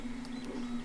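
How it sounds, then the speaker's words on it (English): A 3D printer runs in a home office, giving a steady low motor hum with faint mechanical whirring and no pauses. "Decided to pop up the 3D printer"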